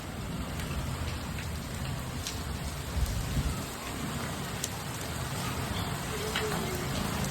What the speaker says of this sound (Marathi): चला पाऊस पाऊस कशी पाऊस